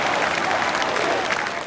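Strong, continuous applause from a large crowd as Álvaro Cunhal's coffin leaves the PCP work centre during his 2005 funeral procession, dense and steady throughout.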